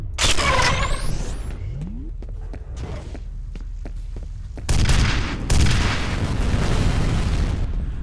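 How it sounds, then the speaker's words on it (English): A grenade explodes in the shooter game F.E.A.R. with loud, broadband booms, amid bursts of gunfire and clattering combat noise. Two heavy blasts land late in the clip and leave a dense rumbling tail. "I don't know if I hit him with that grenade, but I definitely tried."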